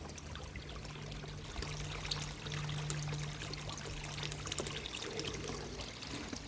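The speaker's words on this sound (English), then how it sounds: "now that is bubbling away quite happily at the speed it should be bubbling away, and the clean water is coming out into the pond" Water from a garden pond filter bubbling and trickling back into the pond, a continuous close burble and splash with a faint steady hum beneath, no voices.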